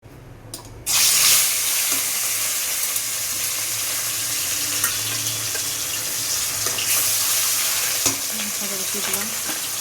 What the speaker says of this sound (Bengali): মাছ ফুটে গায়ে আর মাছের তেল, সেই ভয়ে এখন আমি মাছ ঢেকে ঢেকেই ভাজি